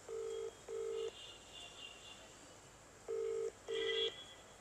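An outgoing phone call rings out in a telephone earpiece: paired electronic ring tones in two short double bursts separated by a pause, faint and close, with a soft higher chirp between them.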